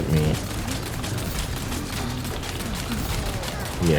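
Punisher pistol fire in the Resident Evil 4 Remake game, a steady dense clatter of shots and impacts running throughout, loud and close, with a voice speaking underneath.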